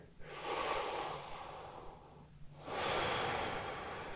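Two deep breaths taken while holding a lower-body stretch, a long airy exhale followed by a brief pause and another breath, close to the listener and clearly audible with no talking.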